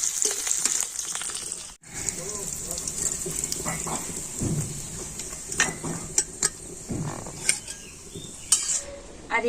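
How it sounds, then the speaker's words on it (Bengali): Curry leaves frying in a kadai give a bright, crackling sizzle while a spoon scrapes and clinks against the pan, with metal knocks scattered throughout the clip. "আর কারি পাতাটা দিয়ে একটু নাড়াচাড়া"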